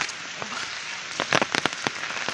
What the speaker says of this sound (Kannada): ಇಲ್ಲಿ ಮಳೆ ಬಂದು ಅಬ್ಬಾ